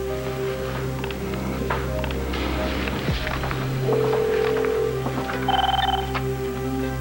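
A telephone rings in brief electronic bursts over a low hum during a phone call, moderately close, with faint background activity and no clear speech.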